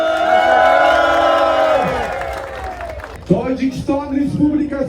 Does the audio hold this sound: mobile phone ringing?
no